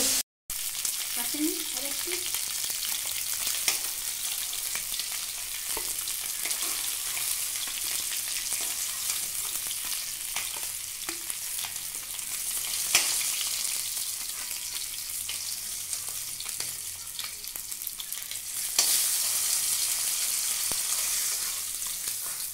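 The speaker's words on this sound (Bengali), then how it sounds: "তো মাছগুলো ভেজে নিচ্ছি আগে" Fish pieces frying in hot oil for Bengali doi katla, a steady, close sizzle and crackle running throughout with occasional louder spits and stirring.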